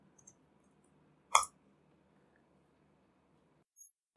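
A single crisp computer mouse click sounds close and clear, followed later by a fainter second click, with near silence between them.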